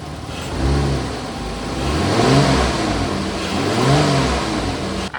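A Ram pickup engine with a head gasket leak revs up twice in rising and falling surges over a steady rumble, loud and close, with no talking.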